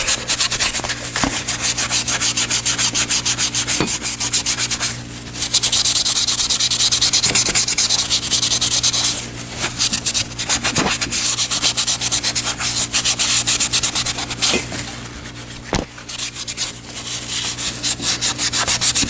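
Steady rhythmic rasp of sandpaper rubbed across a radiator surface being cleaned for glue repair, loud and close, with brief pauses in the strokes and no talking.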